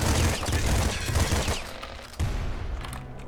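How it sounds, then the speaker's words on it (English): Rapid automatic fire from a triple machine gun in the video game Nuclear Throne, a loud, dense fusillade of shots that thins out briefly before resuming, with no talking. "A triple machine gun."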